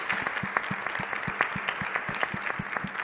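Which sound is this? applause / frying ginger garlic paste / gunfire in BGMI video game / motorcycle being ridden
applause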